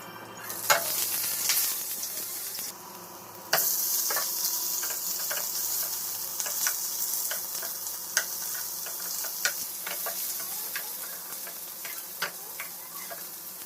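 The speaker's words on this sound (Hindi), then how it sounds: "तो यहाँ पर मैं ब्रेड सेकी इनके लिए।" Bread toasting in a hot pan on a home kitchen stove, a steady sizzle with scattered ticks and scraping stirs, fairly close and uninterrupted by speech.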